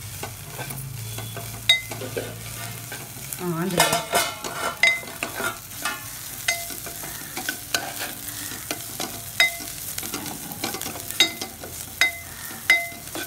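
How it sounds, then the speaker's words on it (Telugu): Onions fry in a pan for a spiced mirchi bajji stuffing, a soft, continuous sizzle broken by repeated scraping strokes and sharp clinks as a utensil stirs them. "ఉల్లిపాయ బాగా ఫ్రై అవ్వాలండి"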